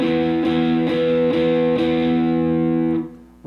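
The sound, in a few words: distorted electric guitar power chords played in eighth notes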